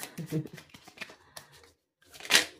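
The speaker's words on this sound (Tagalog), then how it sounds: "nahihirapan akong balasahin" Tarot cards are shuffled in short, crisp riffling bursts with pauses between them, while someone speaks over parts of the shuffling.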